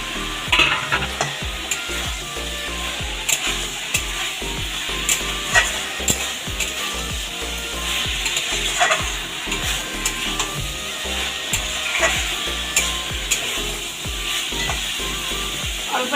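Banana blossom being sautéed with lentil fritters in a pan, with a continuous loud sizzle and a steady rhythm of spatula scrapes stirring the mixture.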